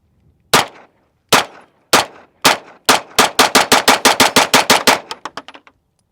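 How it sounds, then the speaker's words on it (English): Shots crack from an EAA Girsan Witness 2311 pistol firing SuperVel 115 grain rounds outdoors: four spaced single shots, then a rapid string of about ten more, loud and close, tapering off at the end. "I'm shooting some SuperVel, 115 grain, certified select"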